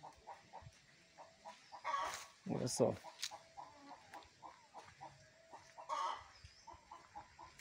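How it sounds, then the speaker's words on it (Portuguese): Chickens on a rural farm in Piauí cluck in a steady series of short, fairly faint calls, with a few louder bursts, while a person speaks briefly nearby. "Galinha."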